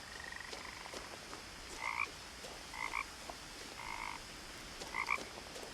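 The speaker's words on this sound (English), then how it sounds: "It sounds like my backyard right now. Freaking frogs." Frogs croak in the game What Remains of Edith Finch: four or five short, rasping calls about a second apart, set against a soft, hissy night ambience.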